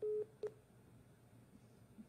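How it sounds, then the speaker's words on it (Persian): A telephone line goes dead as a call is cut off, leaving two short tones at the start, the first longer than the second, then low line hiss. "تلفن مجاهد صاحب قطع شد."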